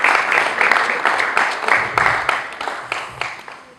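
An assembly applauds at a church celebration of a mother's fiftieth birthday: dense, loud clapping with rhythmic pulses that fades slightly toward the end.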